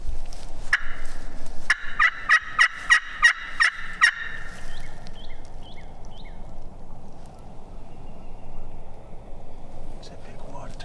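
Wild turkeys gobble in a tight burst of about seven calls during a spring hunt, fairly distant and carrying over steady low outdoor background noise, then fading to quieter ambience with faint chirps.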